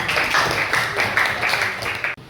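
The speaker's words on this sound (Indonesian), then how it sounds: "Oke, tepuk tangan untuk kita semua." A class of students clapping together in a classroom, a dense, steady patter of many hands in rhythmic bursts that stops abruptly near the end.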